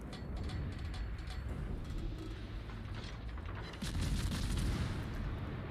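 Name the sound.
naval gunfire and shell explosions in World of Warships video game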